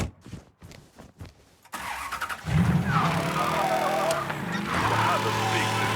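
In Mafia III, a car engine cranks with a few sputtering bursts and then catches, settling into a loud, steady idle that revs up close by.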